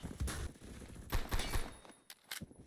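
Rapid bursts of automatic gunfire from a gun in the video game Phantom Forces, several short volleys in quick succession, loud and close, with brief gaps between them.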